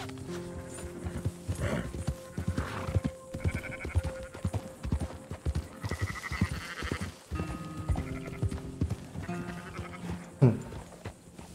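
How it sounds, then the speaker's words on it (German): Horses gallop in Red Dead Redemption 2 in a Wild West setting, their irregular clip-clop hoofbeats mixed with bleating sheep or lambs and scattered game sounds, loud and close throughout. "Einfach mal Pferde hüten."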